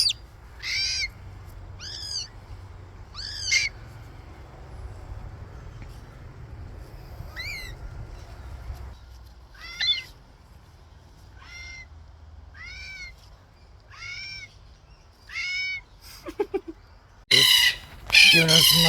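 Loud, rising squawking calls of red and black cockatoos repeat every second or two, with harsh screeches bursting in near the end; a low hum runs beneath.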